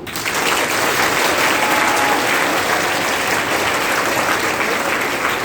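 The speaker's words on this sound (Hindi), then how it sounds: "आपके अपने दोस्तों के लिए जोरदार तालियां" Loud, sustained audience applause at a talk show with an RJ host, a dense steady wash of many hands clapping that fills the whole stretch without a break.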